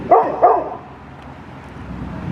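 A dog gives two quick loud barks close by, then the room falls to quiet low background noise.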